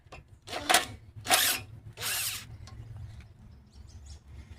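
A power drill backs screws out of a Briggs and Stratton push mower, whirring up close in three short bursts, each stopping after about half a second.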